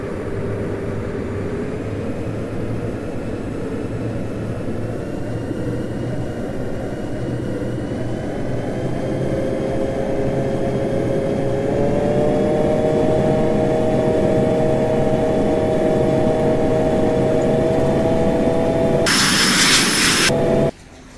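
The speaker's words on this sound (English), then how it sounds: "Expressway 42 is taking off runway 3 left" A CRJ 200 regional jet taking off from runway 3 left in the Infinite Flight simulator: a steady, loud engine roar with rising turbine whine as thrust builds, heard alone.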